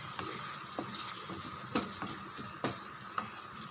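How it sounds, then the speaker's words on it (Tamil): Masala with tamarind water sizzles in a pan for vendakkai puli kuzhambu while a spoon stirs it, giving a steady close frying hiss punctuated by a few sharp scraping clinks against the pan. "இந்த மசாலா நல்லா செவந்து வரட்டும்."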